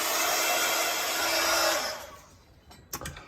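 A hair dryer blows steadily and loudly for under two seconds, drying a mixed media art journal page, then cuts off and winds down, followed by a few faint clicks and handling noises.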